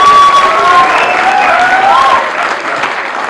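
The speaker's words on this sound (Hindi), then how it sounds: "तालियां बजा दो" Audience applause at an indoor stand-up comedy show: loud, dense clapping with a few whistles that fades toward the end.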